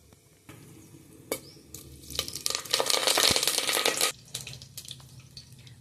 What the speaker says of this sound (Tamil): குக்கரில் எண்ணெய் ஊற்றிக்கிறேன். இது ஒரு தாளிப்புக்கு நம்ம போட வேண்டியது சோம்பு, பட்டை, லவங்கம் போட்டுக்கிறேன்.